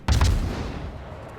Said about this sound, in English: But I decide to take a shot and send him a welcoming gift